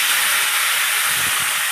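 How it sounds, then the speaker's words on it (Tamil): Tomatoes drop into hot oil already tempered with mustard seeds and cumin for a wedding-style ground-paste sambar, setting off a loud, steady, close sizzling hiss that holds evenly throughout without any talking. "தக்காளி போட போகிறேன் பாருங்க."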